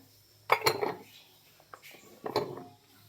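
Cut raw mango pieces are tipped into a bowl in a kitchen, making two short clusters of close clinks and knocks with a quieter rattle between them.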